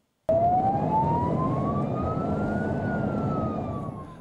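Ambulance siren on New Year's Eve, starting abruptly and holding a single rising then slowly falling wail, fairly near and steady.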